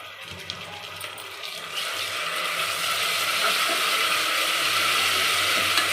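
Ginger garlic paste frying in a pan for a mutton masala curry, a steady hissing sizzle that swells after the first couple of seconds and holds loud and close, with a few faint metallic clinks early on.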